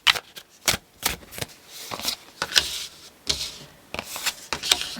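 Tarot cards are shuffled by hand in quick, riffling bursts with crisp papery slaps between them, close and fairly loud, no talking.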